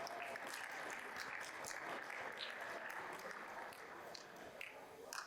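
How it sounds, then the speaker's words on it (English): Audience applause at a National African American Read-In Day event, a dense, steady patter of many hands clapping, fairly faint and continuous throughout. "Let's give them all a round of applause."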